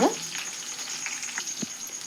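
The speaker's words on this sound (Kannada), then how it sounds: "ಎಣ್ಣೆ ಒಳಗೆ ಫ್ರೈ ಮಾಡೋಣ್ರಿ" Peanuts fry in hot oil for a rice seasoning, making a brief, even crackling sizzle, close and moderately loud.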